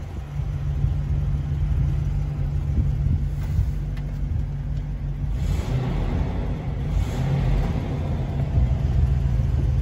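A Range Rover P38 with a 4.0 V8, low-mileage and in showroom condition, idles steadily with a continuous low rumble and some wind buffeting on the microphone, no talk over it.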